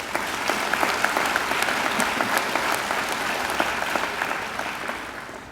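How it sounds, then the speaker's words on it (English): Sustained applause at a graduation ceremony, a large audience clapping steadily and evenly throughout, slowly easing off at the end. "I think Trudy deserves another great round of applause."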